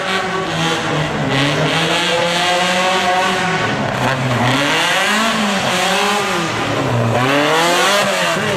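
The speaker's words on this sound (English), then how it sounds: "Tim Candle braking on that high-speed Bristol Speedway turn." A rough truck races on a dirt oval track, its engine loud and close, rising and falling in pitch as it brakes and accelerates through a high-speed turn.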